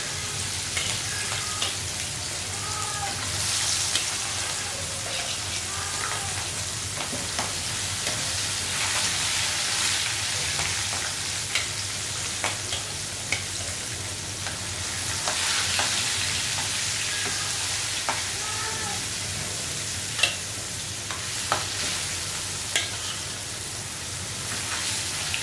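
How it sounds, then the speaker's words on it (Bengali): Fish frying in a pan, a continuous close sizzle and crackle holding steady for nearly half a minute, with occasional small clicks and spatters and no one talking. "দেখেন মাছটা ভাজি করে তারপরে সবজিটা রান্না করব।"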